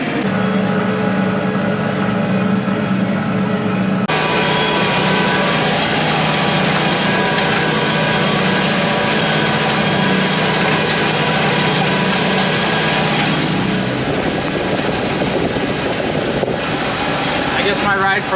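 Steady engine drone of a vehicle driving through a bean field, continuous and fairly loud with wind buffeting the microphone, shifting slightly partway through as it moves closer.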